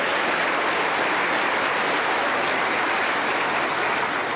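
Strong, continuous applause from a congregation rings through a Pentecostal church anniversary service in Huancayo, a thick, even roar of clapping with no speech.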